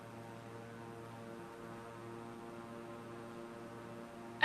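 Twin turboprop engines of a King Air, throttled down in Flight Simulator, give a steady droning hum with layered harmonic tones that stays even throughout, with no talking and a small click at the very end.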